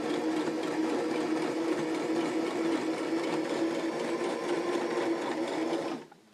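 A sewing machine runs in one continuous steady whir as it stitches along a garment sleeve up toward the armpit seam, close and loud, then stops abruptly near the end.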